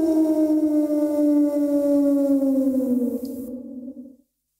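A single wolf howls in one long, sustained, tonal wail that holds steady, then slowly sinks in pitch and fades out, heard alone and fairly close.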